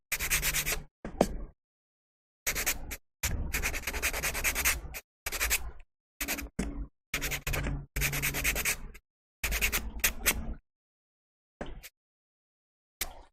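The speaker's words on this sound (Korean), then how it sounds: "사포칠을 해주시면 돼요." Close, rhythmic rasping of sandpaper rubbed across a painted solid-wood hand mirror in short strokes separated by brief pauses.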